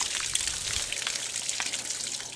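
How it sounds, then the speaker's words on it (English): Steady splashing water runs near the engine bay of a Checkmate boat fitted with high-performance headers, exhaust and a new carburetor, a constant close hiss with scattered droplet patters and no talk. "Turn off the water"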